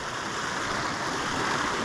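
A stream running high after rain rushes past a bridge on farmland, giving a dense, continuous roar of flowing water, close and steady with no break.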